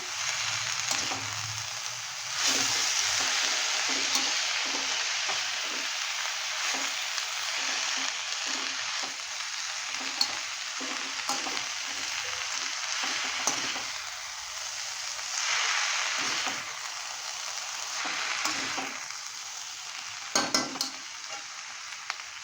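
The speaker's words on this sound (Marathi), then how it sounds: "छान परतून घेऊया" Chopped fenugreek leaves (methi) sauté in a hot pan, giving a steady close sizzle broken by frequent scraping, stirring knocks of a spatula throughout.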